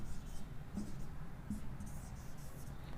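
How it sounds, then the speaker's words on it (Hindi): Soft strokes of writing on a board during a lesson on a blood relation reasoning problem, faint and continuous with a couple of slightly firmer taps, with no talk. "तो देखो यहाँ पे लिखता हूँ मैं नित्या"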